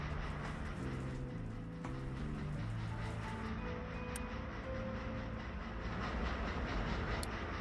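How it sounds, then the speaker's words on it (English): Trains running on rails in a video game map, a continuous low rumble with rolling rail noise and faint tonal squeals, steady and fairly quiet throughout, with no talking. "Nice, the trains are slowly making it."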